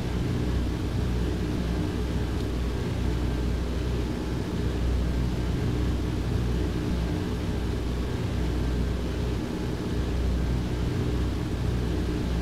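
Airplane engine drone from a flight simulator game during a cross-country flight, a constant broadband roar with steady rumble and faint tonal whine, loud and unbroken for the whole stretch without any speech.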